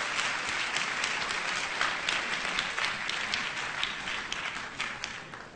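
Crowd at a university matriculation lecture gives a sustained round of applause for Professor Tolu Odugbemi, an even, continuous patter of many hands, moderately distant and unbroken by speech.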